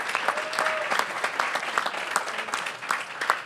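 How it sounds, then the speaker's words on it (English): Audience applause at a community partnership breakfast in Bronzeville, a steady round of clapping from a room of people, moderately loud with sharp individual claps throughout and faint voices mixed in. "can y'all clap?"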